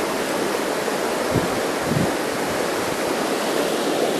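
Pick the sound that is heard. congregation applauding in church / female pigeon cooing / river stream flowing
river stream flowing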